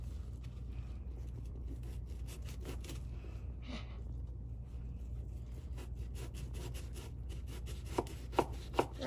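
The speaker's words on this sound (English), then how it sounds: "I've diced the onion" A knife chops a Vidalia onion on a cutting board, quick soft taps and scraping strokes up close, ending with a few sharper, louder knocks against the board.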